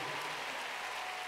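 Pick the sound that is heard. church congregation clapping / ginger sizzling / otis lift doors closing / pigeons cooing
church congregation clapping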